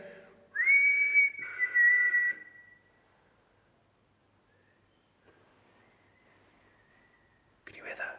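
A person whistles a single sustained, slightly wavering note inside an old workhouse, fairly close and clear, then quiet follows with a faint distant whistle and soft whispered voices.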